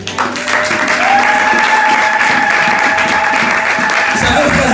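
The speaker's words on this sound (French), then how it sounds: "Est-ce qu'on peut acclamer pour Jésus?" A church congregation at Sunday worship applauds for Jesus, a loud, sustained wash of clapping from a crowd with scattered cheers and voices mixed in, fading near the end.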